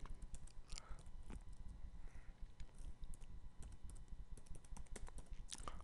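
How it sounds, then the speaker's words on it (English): One-handed typing on a computer keyboard sounds as soft, irregular clicks of keys and taps, close and quiet, with short pauses between bursts and no talk. "So I'm only typing with one hand"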